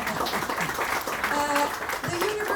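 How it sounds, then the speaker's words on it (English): Audience applause for a graduating startup cohort at a life sciences park opening event, a steady wash of clapping from a crowd lasting a few seconds, with a few voices and whistles mixed in. "a warm applause for them"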